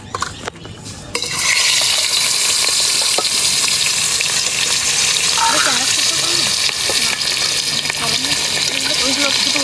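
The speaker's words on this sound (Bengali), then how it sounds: "তেল গরম হয়ে গেছে মাছগুলোকে ভেজে নেবো" Fish rubbed with turmeric and salt drop into hot oil, and a loud, steady sizzle takes over after a quieter start and continues close up for several seconds, with occasional stirring and faint background voices.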